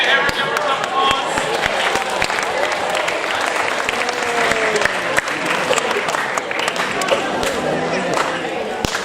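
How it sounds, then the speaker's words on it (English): Audience at a live show applauding with dense, sustained clapping from a crowd, lasting throughout, with a few voices mixed in. "Everyone give us an applause."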